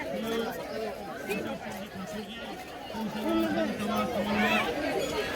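Busy murmur of many people seated for a communal meal at a Ganpati festival in BARC colony, Anushakti Nagar, with overlapping conversations nearby and individual voices rising above a steady background chatter.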